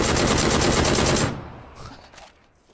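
M16 rifle fire in a shooter video game: a loud, dense automatic burst with rapid repeating shots for over a second, then cutting off to a fading tail with faint distant noises.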